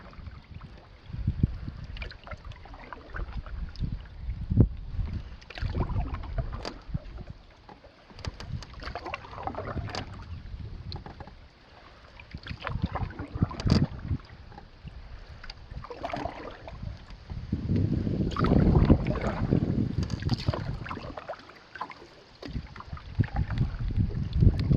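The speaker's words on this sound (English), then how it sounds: "Of course, the wind is up pretty good today." Steady wind rushes over open water on a big lake during a solo canoe trip in the Boundary Waters, mixed with paddle and hull splashes and low buffeting that swells toward the end, with no voices.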